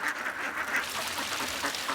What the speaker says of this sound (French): L'éleveur arrive avec ses canards dans les rizières, une fois la récolte terminée.